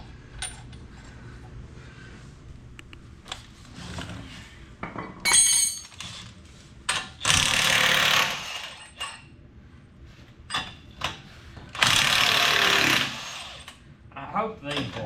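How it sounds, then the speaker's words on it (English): Metallic clanks and clinks of a wrench working loose bolts on a tractor, coming in irregular bursts with two longer rattling scrapes, close by and fairly loud. "Now I'll have to get a wrench. Take those loose."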